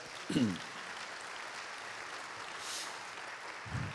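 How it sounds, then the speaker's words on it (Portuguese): A church audience gives soft, even applause to welcome a female bishop arriving to speak during a chaplaincy course; faint, steady clapping fills the moment, with a brief low voice sound near the start. "Vamos receber a nossa bispa com uma linda salva de palmas."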